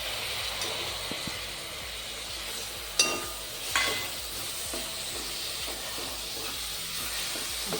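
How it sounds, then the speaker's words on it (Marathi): Tomatoes dropped into hot oil with fried chili powder and turmeric for chole, a steady close sizzle and hiss, with two short sharp clatters of stirring early on. "आता आपले तिखट हळद छान तेलात भाजले गेले आहेत तर आपण आता त्याच्यात टमाटे टाकून घेणार आहोत"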